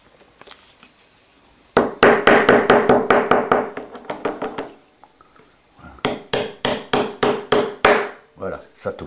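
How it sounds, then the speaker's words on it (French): Sharp, rapid hammer blows while shaping a reed for a cabrette, the Auvergne bagpipe, struck in two loud bursts of about a dozen evenly spaced hits each, with a brief pause between and a few lighter taps at the end. "Le marteau. Attention, ça fait du bruit."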